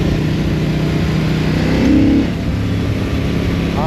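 A CF-Moto 800NK motorcycle engine pulls hard under acceleration, a loud, dense mid-pitched roar that climbs briefly and then eases off, with steady wind noise throughout.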